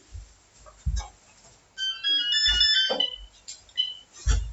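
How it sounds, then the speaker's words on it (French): A telephone rings indoors with a bright electronic melodic ringtone that runs for about two seconds, mixed with a few low knocks and thumps. "le téléphone qui sonne, donc je me lève et je vais le couper"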